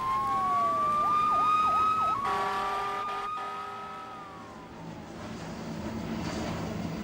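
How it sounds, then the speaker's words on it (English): Emergency vehicle sirens wail and yelp at the Dallas crash site of Delta Air Lines Flight 191, rising and falling continuously over steady traffic rumble, fairly loud and close, with no talking. "you could hear the sirens going off."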